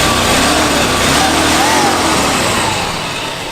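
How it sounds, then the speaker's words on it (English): Engine of a Mercury Cougar barn find, idling after about 40 years of storage; a steady, fairly loud broadband running drone that holds even for a few seconds, then eases slightly toward the end. "Well, it appears to idle, I guess."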